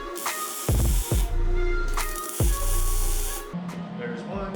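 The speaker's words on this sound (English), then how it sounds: "even with just these little tack welds just on the outer edge" MIG tack welding on a steel flat deck trailer built from a boat trailer, heard as two short bursts of loud crackling, hissing arc noise with brief pauses and quieter shop sounds in between.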